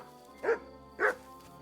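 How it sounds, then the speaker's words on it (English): A dog barks twice in Kingdom Come Deliverance 2, two short, separate barks about half a second apart over a quiet, steady game background hum. "What you barking at, puppy?"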